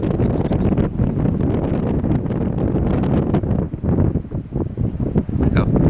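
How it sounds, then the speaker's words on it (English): Strong, gusty wind buffets an outdoor microphone at a shooting range, a loud continuous roar that swells and dips throughout with no other sound standing out. "This wind's horrible."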